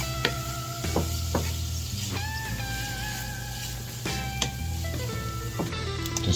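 Chorizo and vegetables sizzle steadily in a skillet, a close continuous hiss with scraping clinks of a utensil as the mix is stirred around the pan.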